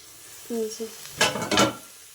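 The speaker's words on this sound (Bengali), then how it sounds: "দু রকম শাক আছে এখানে কফি শাক আছে আর সজনা শাক আছে দু রকম শাক মিক্স করে ভাজা করছি" Two kinds of leafy greens, one of them drumstick (moringa) leaves, being stir-fried together in a kadai. A short tonal squeak comes first, then two quick, close bursts of scraping and sizzling as the greens are turned.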